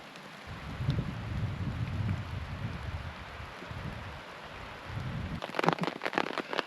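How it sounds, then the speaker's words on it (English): Rain patters steadily on a tarp shelter in the woods, a dense, continuous hiss with low drumming underneath, and a louder burst of heavier drops near the end. "I'm looking forward to a rainy night under the tarp."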